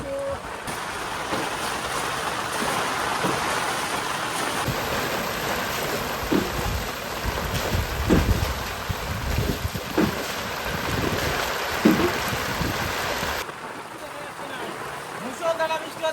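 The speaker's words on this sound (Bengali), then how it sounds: "মুষলধারে বৃষ্টি হচ্ছে বন্ধুরা," Heavy rain pours down on a fishing boat on a Sundarbans river during a storm, a dense steady roar of downpour with wind buffeting the microphone, easing briefly near the end.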